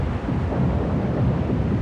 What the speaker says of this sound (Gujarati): ભયાનક તોફાન આવ્યું. વીજળી ચમકી, વરસાદ પણ શરૂ થયો.